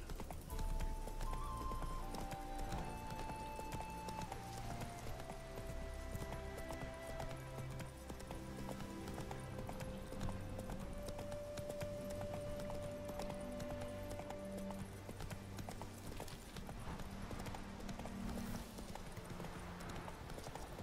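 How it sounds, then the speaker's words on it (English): A horse's hooves gallop in a rapid, steady clip-clop rhythm throughout, in the video game The Witcher III, under a background of melodic game music. "Whoa there, Roach"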